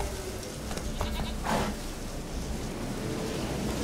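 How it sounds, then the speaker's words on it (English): Sheep bleating in The Witcher 3 game world near a run-down hut, a few short wavering bleats standing out over a steady ambient wash of background noise. "不要骗我，这只羊是公主。"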